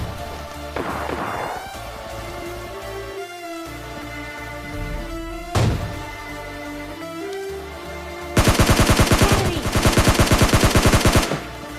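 Rapid automatic gunfire from the video game PUBG bursts loud and close in a sustained rattling stream near the end, after scattered in-game sounds, a brief thump and a single sharp impact, with game music layered throughout.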